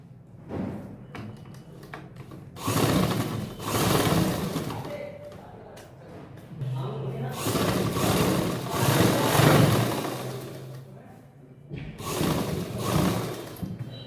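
A sewing machine stitches a cross-wise seam along the hem of a salwar, its mechanism whirring and clattering in bursts of several seconds, close by, with short pauses between runs.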